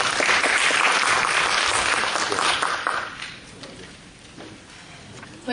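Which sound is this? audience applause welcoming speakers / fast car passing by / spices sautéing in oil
audience applause welcoming speakers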